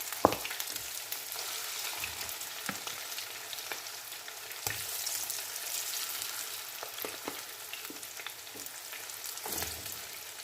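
Chicken biryani ingredients frying in a pan give a steady close sizzle, with occasional scrapes and knocks of a stirring spoon against the pan and no voices.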